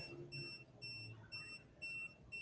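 An aquarium auto top-off sensor alarm beeps in short repeated bursts, a thin high electronic tone pulsing at an even rhythm against a quiet background.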